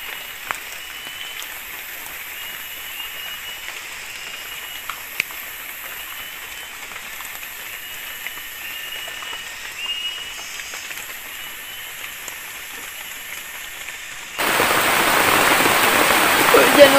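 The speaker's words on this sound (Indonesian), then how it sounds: "Hujan terus guys, nggak berhenti-berhenti. Nambah deras hujannya." Heavy rain falling steadily on a treehouse in a forest, a continuous hiss throughout that surges into a much louder, denser downpour near the end.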